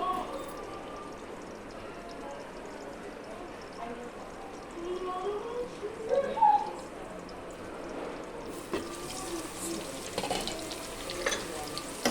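Cauliflower florets frying in a covered pan give a low, steady sizzle, quiet and continuous, with faint clinks and a slightly louder bubbling patch midway.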